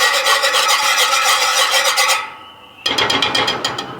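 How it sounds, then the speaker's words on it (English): A whisk scrapes rapidly against a pan as a marsala wine sauce is whisked, a loud rhythmic rasping that pauses briefly and then resumes, with no talk. "I'm going to start whisking"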